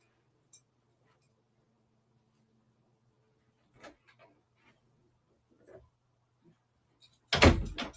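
A door being wedged shut by stuffing something into it: faint scattered rustles and small clicks over a low hum, ending in a louder burst of friction and rattling.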